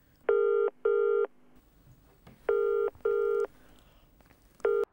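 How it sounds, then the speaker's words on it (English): Outgoing phone call ringback tone with two paired ring bursts, a pause, another pair, then the start of a third cycle, clear and steady with no talking. "Calling Chris Jenkins, mobile."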